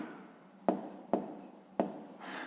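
Pen or chalk strokes mark out numbers while a fifth-grade math exercise is solved, three sharp taps followed by brief scratching, close and clear without talk.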